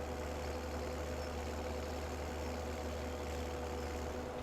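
A tractor engine idles in the farming game Farming Simulator 17, a steady low droning hum that holds constant without change.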